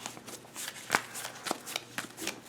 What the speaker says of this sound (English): I'm gonna do a little shuffle here